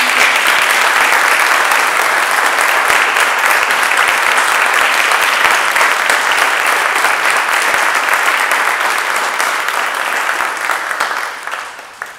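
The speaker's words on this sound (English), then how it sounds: "so that we could recognize you with a round of applause" A congregation at a worship service applauds veterans with dense, sustained clapping that stays loud for about eleven seconds before tapering off at the end.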